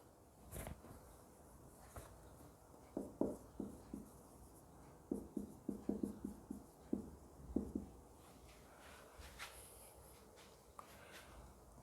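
Chalk or marker writing on a board in a fluid mechanics lecture: a quiet room, then a run of distinct, close tapping and scratching strokes in uneven clusters, fading back to faint background hiss.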